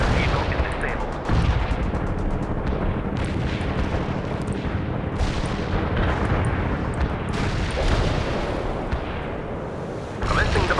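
Artillery in the World in Conflict game pounds away in a dense, continuous barrage of booms and crackling blasts, with heavier impacts standing out from the rumbling din.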